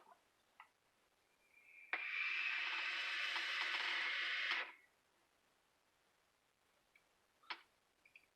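Airflow hiss of a Geekvape Zeus X RTA vape drawn wide open at 65 watts, a single steady breathy rush lasting about three seconds, close and fairly loud, with faint clicks before and after.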